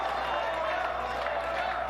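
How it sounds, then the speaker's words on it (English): Crowd at a Chaotic Wrestling independent match cheering and shouting steadily behind the action, a continuous roar with a commentator talking over it. "And listen to this crowd."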